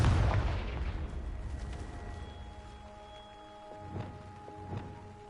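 A Confringo blasting spell explodes in Hogwarts Legacy, a loud booming burst that rumbles and fades over a few seconds, followed by two softer thuds.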